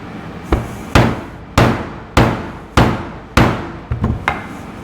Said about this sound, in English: Take your mallet and just cut through. But the rubber is pretty thick. So I'm going to give that another couple whacks.